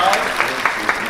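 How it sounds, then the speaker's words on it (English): Audience applause for a guest at a studio talk event, a short bright patter of clapping with a few sharper claps standing out across about a second. "give him a round of applause"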